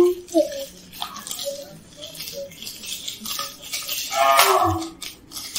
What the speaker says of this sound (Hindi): इस सिलेंडर में हम लोग को 5 ml विनेगर डालना है। तो हम लोग इसमें डाल लेते हैं।